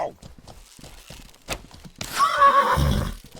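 In the game Territory Control, a horse gives a loud whinny after some hoof clops and thuds, while a player talks over it.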